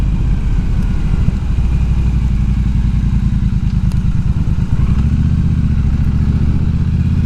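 A motorcycle engine, a bike bought after selling a Harley, runs loud and close at a steady low rumble with a throbbing pulse and a slight shift in tone partway through.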